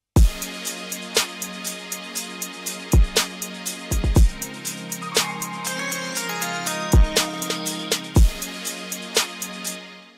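A programmed drum loop plays alone: punchy kick and snare hits over a steady ticking hi-hat, with a tonal synth line layered on top.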